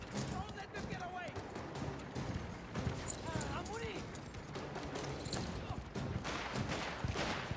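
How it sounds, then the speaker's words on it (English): Horse galloping in the video game Mafia The Old Country, a dense rapid clatter of hooves running throughout, mixed with bursts of gunfire, crashes and voices in a busy chase scene. "I'm going for the horse."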